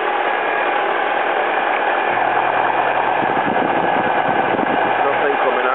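A 2001 Alfa Romeo 147 T Spark idles steadily after a jump start, a close, constant mechanical hum with faint ticking, unchanged in level throughout and with no revving.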